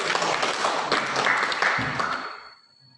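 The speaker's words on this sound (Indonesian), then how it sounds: "tepuk tangan sekali lagi" An audience in a Catholic religious education class claps together in a short burst of applause, fairly dense and even, fading out at the end.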